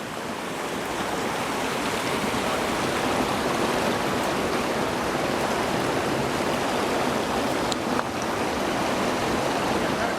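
A creek bed in the Weminuche Wilderness of Colorado carries steady, rushing water, a dense continuous wash that stays loud and close for the whole stretch with no voices over it.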